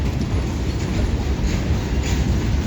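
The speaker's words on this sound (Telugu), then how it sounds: "చూడండి, ఎంటీగా వెళ్తుంది గూడ్స్ వేగనం." Empty goods train wagons roll past close by with a loud, continuous low rumble and rattle, steady for the whole stretch and without any voices.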